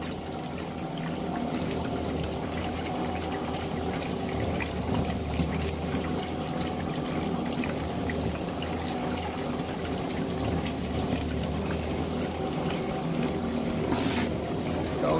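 Water pours steadily through a gold panning wheel carrying concentrate, a loud continuous wash and trickle that stays close and even throughout.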